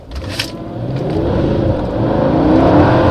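A 2005 Mercedes CLS55 AMG W219 engine revs hard and accelerates, a loud continuous roar that builds steadily in strength, heard close with no talking.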